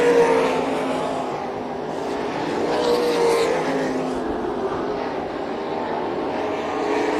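360 winged sprint race cars roar around a dirt track, a dense continuous engine drone swelling and fading as cars pass, with no talk over it.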